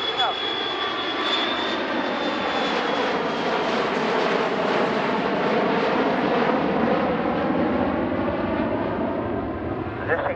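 A Boeing 737 jet flies past at an air show, its engines a loud continuous roar that swells and holds across the whole stretch, with a commentator speaking over it.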